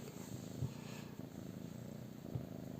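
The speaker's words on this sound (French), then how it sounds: "Est-ce que vous entendez son petit ronron?" A cat purring softly and close, a faint continuous rhythmic rumble with a few small bumps, no voices over it.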